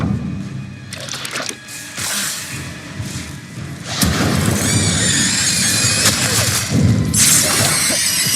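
Spells cast in Hogwarts Legacy, including the Incendio fire spell, giving sharp bursts, whooshes and crackling crashes spaced through the clip, loud and up close, with no talking.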